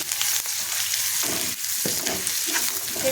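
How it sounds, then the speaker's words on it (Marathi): Onions that have turned golden fry in a pan as turmeric goes in, a steady close sizzle with stirring scrapes running throughout, no voices. "कांद्याला छान सोनेरी रंग आलेला आहे आता ह्याच्यामध्ये आपण हळद टाकून घेऊयात"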